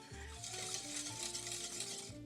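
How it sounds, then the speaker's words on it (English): Lemon curd being whisked in a pot on the stove for lemon meringue tart filling, a steady soft scraping and stirring with faint sizzle, continuous and close. "I'm gonna speed up a little bit so that I can make smooth lemon cream"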